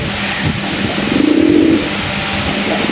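A single low coo from a female pigeon rises briefly midway, set against a steady hum of background noise.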